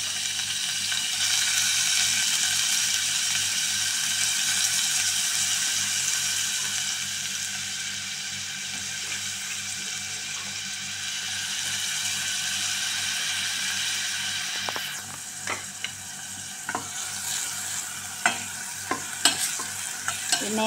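Garlic and onion fry in a hot pan for sweet and sour sauce, a steady close sizzle with a stirring utensil scraping and clicking against the pan near the end.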